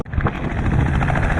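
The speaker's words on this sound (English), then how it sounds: "So that helicopter that I've been hearing all day is based right here." A joy-flight helicopter flies around an aerodrome at an aviation expo in Brisbane, its rotor thumping steadily and loudly nearby throughout.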